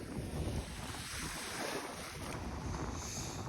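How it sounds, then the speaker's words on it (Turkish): Sea waves breaking at the shore during an evening fishing trip, a steady broadband wash of surf mixed with strong wind buffeting the microphone, loud and continuous with no talking. "Bu dalgalar var ya mahvedecek bizi"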